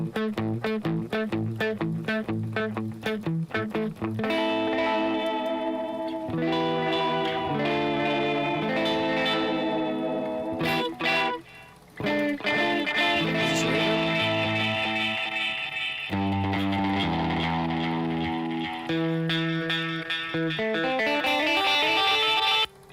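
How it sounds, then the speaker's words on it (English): Music runs through the echo preset of a vintage delay effects unit. Layered tones repeat and trail off in echoes, loud and continuous, with a brief dip near the middle before denser repeats build again. "This is Echo."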